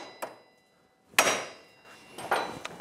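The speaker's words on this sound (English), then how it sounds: "And we need to use a dead blow hammer on that because a regular hammer is going to damage the threads." A dead blow hammer strikes the steering arm of a Yamaha Grizzly YFM700 ATV three times, each a sharp, solid, close impact separated by pauses, with no talk.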